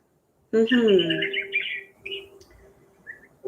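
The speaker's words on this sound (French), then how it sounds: "Oui, il y a des bébés oiseaux." Baby birds chirp in a lively burst of high, overlapping tweets and calls, fairly close and loud at first, then thinning into scattered peeps.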